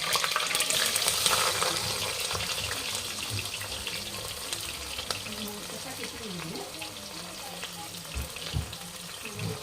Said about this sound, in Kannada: ಉಳ್ಳಾಗಡ್ಡಿ ಸ್ವಲ್ಪ ಬ್ರೌನ್ ಕಲರಿಗೆ ಆಮೇಲೆ ಮೆತ್ತಗಾಗಬೇಕು ರೀ. ಅಲ್ಲಿವರೆಗೂ ಎಣ್ಣೆದೊಳಗೆ ಫ್ರೈ ಮಾಡ್ಕೊಳ್ಳೋಣ.